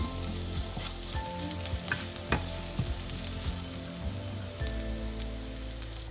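Green chillies frying in oil in a pan give a continuous close sizzle with scattered crackles and pops, plus a low steady hum underneath, with no voices.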